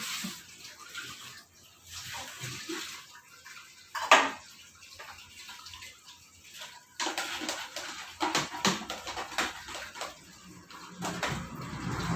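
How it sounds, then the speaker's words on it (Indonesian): Medical instruments rinsed under running water to clear detergent foam, with intermittent splashing and pouring, soft clinks of metal tools against a basin, and one sharp clatter, the water swelling louder in the second half. "mencuci dengan air bersih atau dengan air mengalir sampai busa deterjen hilang"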